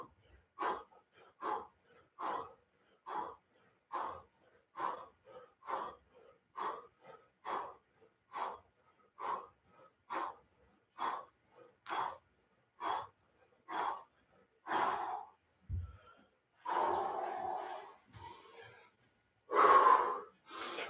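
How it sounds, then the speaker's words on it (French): Heavy, rhythmic breathing during push-ups, about twenty evenly spaced forceful breaths in a steady cycle, close and clear, loosening into longer, ragged exhales toward the end. "On inspire et on expire."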